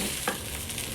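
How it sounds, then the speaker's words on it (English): Indonesian nasi goreng fried rice is stirred in a hot pan, a brief steady sizzle with a soft scrape of the spatula. "Stir well. Stir well."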